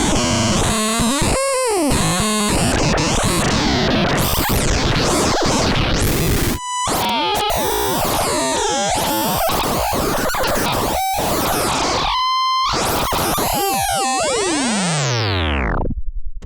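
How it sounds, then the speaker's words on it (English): Synthesizer cross-modulation made to sound broken, with oscillator frequencies and modulation depth being varied: harsh, chaotic metallic tones sweep and glide up and down, broken by abrupt cutoffs and brief tonal beeps, ending in a falling swoosh, loud and continuous. "You'll notice that the stereo image seems to change as I vary the oscillator frequencies and depth of modulation."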